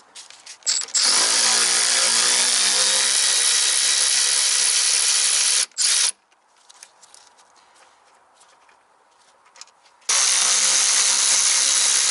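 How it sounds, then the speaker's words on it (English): An electric ratchet loosens 13 mm bolts on the rear control arm of a BMW X3 F25. It runs in two loud, close, sustained whirring bursts, the first lasting about five seconds. A quieter pause with faint clicks follows before the second burst. "You can use a normal ratchet, but I like to use my electric ratchet."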